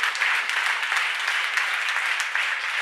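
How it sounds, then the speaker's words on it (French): Audience applause at an evening award ceremony honouring a woman who opened a restaurant, a steady dense round of clapping held at even loudness throughout, with no voices over it. "Oui, ça s'applaudit."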